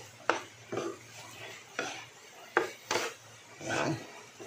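Tuna sisig being stirred and mixed in a pan, with a spatula scraping and clanking against the metal in about six distinct strokes over light sizzling, close and fairly clear.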